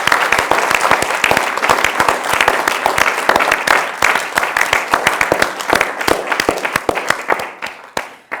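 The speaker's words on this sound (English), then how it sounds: "I'd like to begin with a big round of applause" Loud audience applause at a Three Minute Thesis regional final in Montpellier: a dense roll of close clapping that runs for several seconds, then breaks into sparser individual claps as it winds down.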